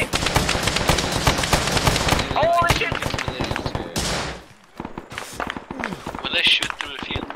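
Rapid automatic gunfire rattles in dense bursts during an Arma 3 firefight against an enemy sniper, loud and close, broken by a brief lull before more shots, with voices talking over it.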